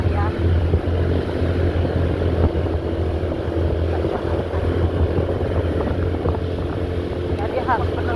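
Motorcycle engine climbing an uphill village road, a steady droning hum with wind rumble against the microphone throughout and a person talking over it.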